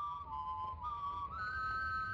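Whistling in a forest in an analog horror piece, a steady tonal whistle that slides between pitches over a low rumbling background, moderately faint and alone.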